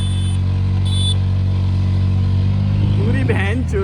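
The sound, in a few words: motorcycle engine revving in gear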